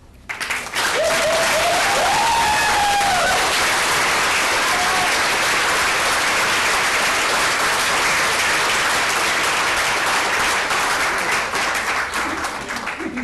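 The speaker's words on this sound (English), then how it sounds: "If you could hold your clapping, that will help with the timing here" An audience at a school board meeting breaks into loud, sustained clapping that swells quickly and holds steady, with a brief tonal squeal near the start.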